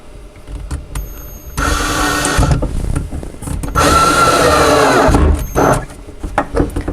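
A power driver whirs in bursts, driving screws into the wooden lid hinge of a barrel-top toy chest: loud, close, sustained motor runs of a second or more, separated by short pauses and small clicks.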